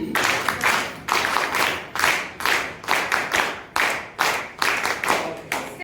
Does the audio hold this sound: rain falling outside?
no